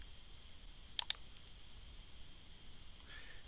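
A computer mouse clicks twice in quick succession while saving in CLICK PLC programming software, sharp and close against a quiet room hiss.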